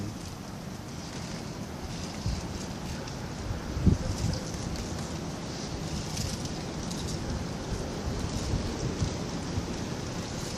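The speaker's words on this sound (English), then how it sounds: "Wind must be blowing at least 10-50 miles an hour." Strong wind blowing outdoors past fence posts on a stormy day, a steady loud roaring rush with rain-like hiss and one brief thump, continuous and close with no talking.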